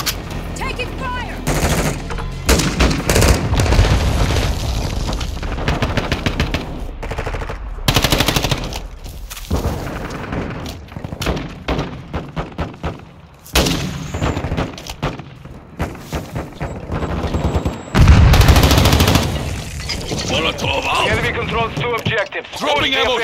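Rapid automatic gunfire and bursts of shots from Call of Duty Modern Warfare 2 Domination on the Shoot House map, loud and near, with booms and game voice callouts mixed throughout.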